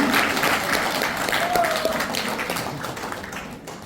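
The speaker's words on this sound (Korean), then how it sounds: "여러분, 큰 박수 부탁드리겠습니다." Audience applause with some cheering opens a Korean lecture on women and basic society, a broadband clapping wash that stays steady and fairly loud before tapering slightly near the end.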